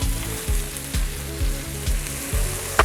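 Onions, garlic and mushrooms fry in a pan with a steady, loud sizzle close by. A stirring scrape breaks through about every half second, and nobody speaks.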